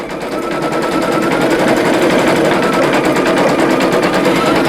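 A single-needle embroidery machine stitches a lace pumpkin earring stem, making a loud, continuous, rapid mechanical hammering with a steady rhythm and no pauses.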